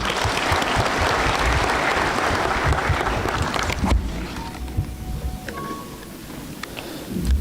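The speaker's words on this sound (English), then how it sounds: "Let's welcome with the clap," A crowd applauds loudly and steadily at a university graduation ceremony, then the clapping thins out into scattered claps and a murmur of voices.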